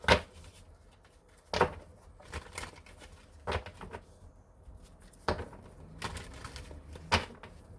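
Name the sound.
shuffling a deck of cards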